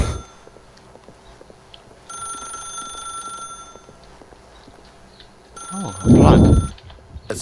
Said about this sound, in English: As Stanley picked up the phone,